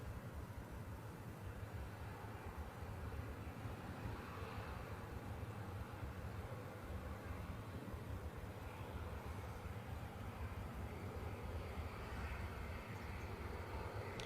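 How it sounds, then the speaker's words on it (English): A Ryanair airliner at Manchester Airport gives a steady, distant broadband roar of jet engines that holds evenly for the whole stretch, with no talk over it. "This Ryanair, it looks like it's just come from Alicante."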